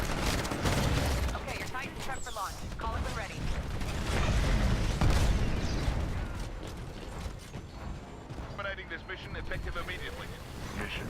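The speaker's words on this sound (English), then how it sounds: "I think it's the turret and a Titan firing at me at the moment." Gunfire from an automated turret and a Titan mech in the shooter game Titanfall, heard as dense mechanical rattling bursts and clanking that run steadily throughout, loud and close, with someone talking over them.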